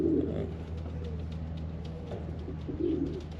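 Pigeons coo in a home-built pigeon loft with plywood-backed perches, low soft rolling calls rising at the start and again near the end over a steady low hum of ventilation.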